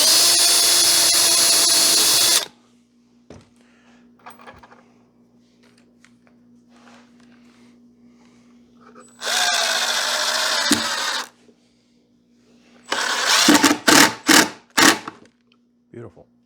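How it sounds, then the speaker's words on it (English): A power drill bores through a piece of material in three bursts: a long steady whine, then a second sustained run after a quiet pause, then a few short choppy pulses, close and loud over a faint low hum. "I'll just start the drill"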